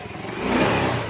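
Yamaha Mio 125 motorcycle engine with a hesitant, stuttering throttle fault revs up gently from idle, a close, steady mid-pitched engine drone that swells slightly under light throttle, with no voices.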